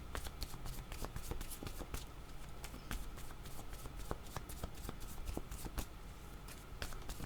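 Tarot cards are shuffled in quick, soft riffles and slaps close by, a faint continuous patter of card noise.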